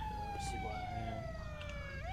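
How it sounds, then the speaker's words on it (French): Emergency vehicle sirens wailing with a steady sweeping tone over a heavy low rumble of traffic or crowd noise, moderately loud and continuous throughout. "Éteignez les sirènes, s'il vous plaît."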